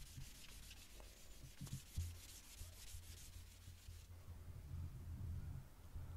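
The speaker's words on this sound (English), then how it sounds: "I gave it a sanding down." Steady abrasive rubbing of sandpaper on burnt scrap wood, close by, continuing with a constant scratchy texture and some low handling thumps.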